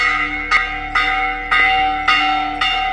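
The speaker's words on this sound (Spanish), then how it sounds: "Están tocando las campanas del pueblo porque hay un ataque." Church bells of a village in Masaya rung in alarm during a 2018 attack, struck steadily about twice a second with bright, sustained ringing tones, fairly loud and near, with no voices.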